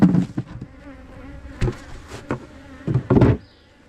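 Honey bees buzz around an opened hive in a winter bee yard during an inspection, a steady close drone broken by several louder bursts as bees fly near.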